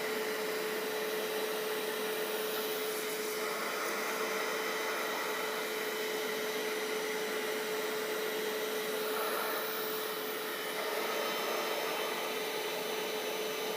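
A Bissell Little Green ProHeat carpet cleaner sucks water up steadily as it is pulled along, giving a continuous loud whining hiss with a faint tonal whine, unbroken and close, with no talking.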